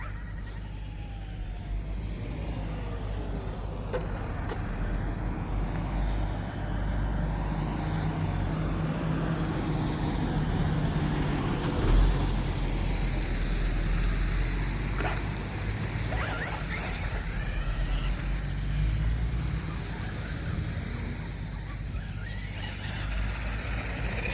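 A heavy Losi DBXL-E 2.0 1/5 scale electric RC car drives on a wet indoor floor, giving a steady whirring motor drone with a low rumble that holds at an even level throughout, with no voices.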